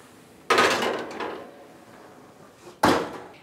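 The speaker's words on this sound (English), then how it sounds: "Now this goes into our 375 oven for 10 minutes." An oven door, heated to 375 degrees, shuts as a strawberry tart goes in: two separate hard clunks with brief ringing decay, close and clear, with no talking.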